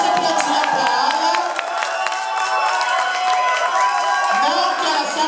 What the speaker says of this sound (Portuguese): Pode aplaudir a palma.